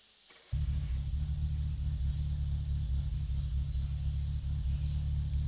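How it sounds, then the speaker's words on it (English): The engine of a Satsuma, an old Japanese car in the video game My Summer Car, starts suddenly and settles into a loud, steady low idle with a deep, even rumble that runs slightly slow. "It idles a little low"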